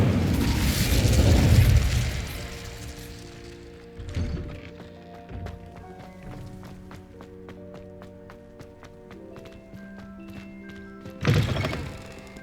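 An Incendio fire spell cast in the Hogwarts Legacy video game erupts as a loud, booming whoosh at the start, followed by soft musical tones, with a second sharp fiery burst near the end.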